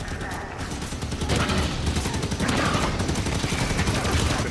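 Gunfire in Halo 5 during an evacuation fight: dense, continuous bursts of automatic fire roar loudly without pause, with a swell in intensity partway through.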